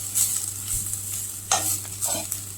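Grated fresh coconut stirred in a pan for coconut laddoo: close, scraping stirs in a few distinct bursts over a low, steady background hum.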